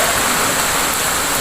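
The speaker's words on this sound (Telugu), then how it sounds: "గాలి వాన రెండు వస్తున్నాయి" Steady rain falls outside in windy weather, a dense, even hiss of water close by with no breaks and no voices.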